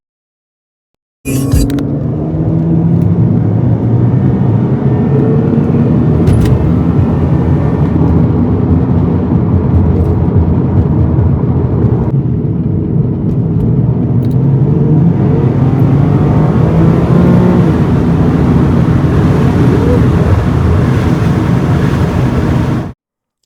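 An Infiniti G37 engine runs loud and close for over twenty seconds, a deep continuous rumble that rises and falls as it is revved.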